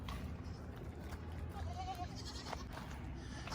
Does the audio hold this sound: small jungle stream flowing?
no